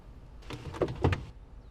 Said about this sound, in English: I layered in a sound from when Ella opened her door over that section